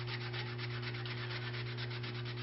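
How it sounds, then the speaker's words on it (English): Steady scrubbing of a Scotch-Brite pad over a freshly cast scrap-pewter pendant still sitting in its mold, a continuous close rub with a fast back-and-forth rhythm over a constant low hum. "I'm going to take just a little bit of Scotch-Brite"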